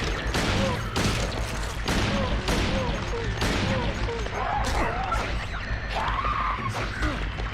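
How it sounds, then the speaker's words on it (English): Handgun shots at enemies in the survival horror video game Silent Hill 2: loud, rapid, repeated gunshot cracks in a steady string, layered over dense game sound effects and a low rumble. "It's absolutely absurd how many handgun rounds it can take to kill one basic enemy in this game."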